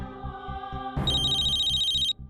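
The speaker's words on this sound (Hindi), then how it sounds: "मेरा फोन बज रहा है।" A bright electronic phone ring, a steady high warble lasting about a second over a low droning music bed, then cutting off.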